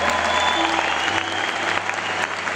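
A concert audience applauds a trumpet player, steady dense clapping filling the hall for the full stretch without a break.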